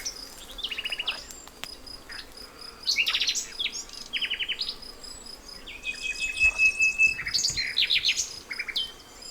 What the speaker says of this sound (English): please let us know what that bird is in the background